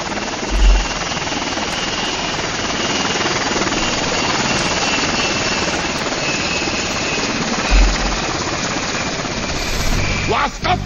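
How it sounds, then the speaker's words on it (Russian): A helicopter in the video game SOCOM II: U.S. Navy SEALs thrums with a loud, continuous rotor drone throughout, with a couple of low thumps and a burst of sharp noise near the end. "Мы подвергаемся сильному обстрелу со стороны вертолета."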